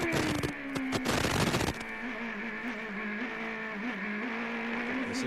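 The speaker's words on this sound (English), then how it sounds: "As soon as Paul Tracy gets back in the clear, we'll listen to his engine note." Paul Tracy's CART race car engine heard onboard, a steady high droning note with small rises and dips in pitch, preceded by a short burst of sharp crackling bangs.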